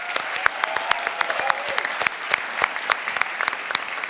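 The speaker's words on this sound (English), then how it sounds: "Let's do one more round of applause for all 3 finalists." Audience applause for three student technology finalists at the Imagine Cup World Championship final, sharp individual claps standing out over a steady bed of clapping from a large hall crowd, with a faint voice underneath.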